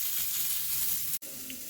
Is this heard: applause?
no